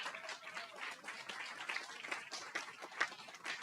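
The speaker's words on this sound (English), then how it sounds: "So please give a huge round of applause for them." An audience gives a round of applause at an awards presentation during an education retreat, with brisk, fairly quiet clapping that continues for a few seconds without talk.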